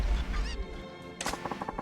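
Chickens in the Yakuza 0 video game let out loud, honking, goose-like squawks, a harsh run of calls at the start and a burst of rapid choppy clucks in the second half, close and with no talking.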